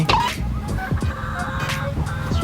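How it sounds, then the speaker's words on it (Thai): Harsh, honking calls from a chicken, several short squawks in quick succession at moderate distance, with faint background noise. "ทุกคนผมได้ยินเสียงไก่"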